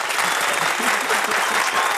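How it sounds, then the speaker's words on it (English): Dense, steady audience applause fills the room, loud and continuous throughout with no pauses. "Keep the applause going."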